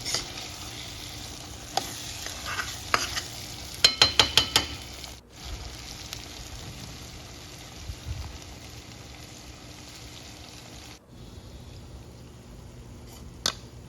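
Onion, garlic and masala gravy frying in oil for a Kolhapuri-style shev bhaji, giving a steady low sizzle broken by a short burst of rapid spatula scrapes and a few scattered stirring knocks, with no voices.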